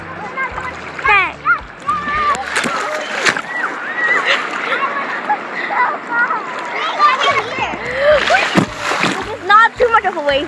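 Small waves wash and splash at a beach, with steady surf wash and short splashy bursts throughout, while children and adults talk and exclaim over the water noise.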